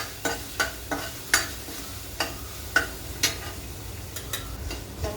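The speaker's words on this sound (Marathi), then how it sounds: "मसाला छान परतला आहे" Masala with garlic sautés in a pan while a spoon stirs it, giving a soft continuous sizzle broken by repeated sharp scraping clinks of the utensil against the metal at an irregular, close rhythm.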